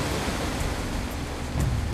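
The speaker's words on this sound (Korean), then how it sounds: "파도가 쉬 가라앉지 않고 있다" Continuous wash of high ocean waves and wind heard aboard a Korean shrimp fishing boat, a steady broad roar with slight swells, no voices.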